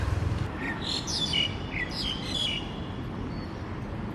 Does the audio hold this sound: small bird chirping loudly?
yes